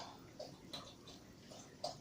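Water shaken from a sieve over a kitchen sink, heard as soft splashes and drips against a low steady water hiss, with a few sharper spatters standing out at irregular moments.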